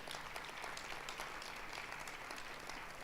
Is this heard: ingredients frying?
no